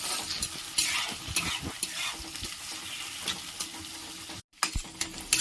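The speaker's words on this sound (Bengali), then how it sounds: "পেঁয়াজগুলো আমি বেশ হালকা লাল লাল করে ভেজে নেব।" Onions sizzle in a pan for dhaba-style egg tarka while a spoon stirs them in frequent scraping strokes, the frying steady and moderately close, with a brief gap of quiet before stirring resumes.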